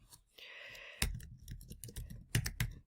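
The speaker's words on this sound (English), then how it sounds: "Type that in" Keys clatter on a computer keyboard in a short burst of quick clicks, close and fairly quiet, with a brief softer rustle just before.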